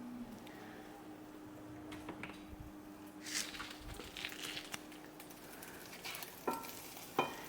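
Shallots frying in a hot pan and being stirred, a soft continuous sizzle with scattered scraping clicks and a few sharper utensil knocks toward the end, close and fairly quiet, no voices.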